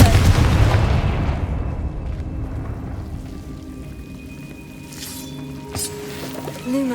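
A Confringo fire spell in the Hogwarts Legacy video game goes off as one loud, booming blast at the start, trailing into a rumbling decay under a low ambient bed, with a brief sharp flare near the end.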